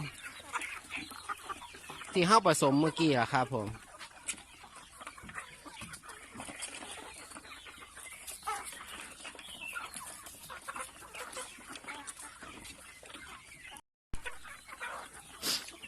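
Backyard chickens cluck as they eat a low-cost feed mix, with loud close clucks early on and then a steady busy farmyard clatter. Someone talks briefly.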